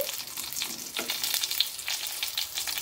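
A tempering of dried red chillies sizzles and crackles in a pan for Chettinad tomato chutney, a soft, steady frying hiss with small pops, fairly quiet and without voices.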